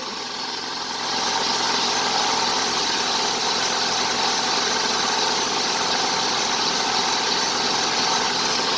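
A 2003 Honda Civic engine runs steadily at about 3000 rpm, with a smooth, continuous mechanical hum and whine that rises slightly after the first second and then holds level, with no talking.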